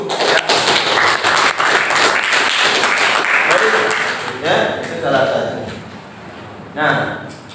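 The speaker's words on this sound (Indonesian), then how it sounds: "Kasih aplaus dulu" An audience applauding at a morning seminar on creative products and entrepreneurship, with dense, steady clapping for about four seconds that then thins out and fades, while a voice talks over it.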